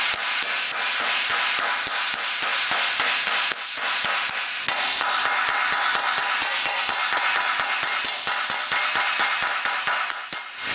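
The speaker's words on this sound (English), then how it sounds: "So I'm going to hammer that as flat as I can." Rapid, steady hand-hammer blows ring on a sheet metal panel being planished flat, close up and loud, continuing without pause.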